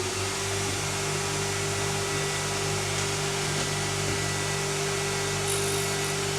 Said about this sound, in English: So we'll start the grinder and just see how it looks